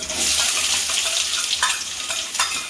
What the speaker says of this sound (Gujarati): અને પછી નાખી દઈશું એમાં કાંદા.